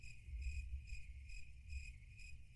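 Steady chirping of crickets, a high pulsing trill repeating in even bursts over a low background hum.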